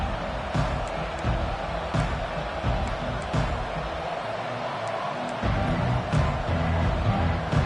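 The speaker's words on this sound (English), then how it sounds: "This crowd trying to make life miserable for this offense." Stadium crowd noise from an American football video game, a steady, fairly loud roar of many voices with scattered thumps and cheers throughout.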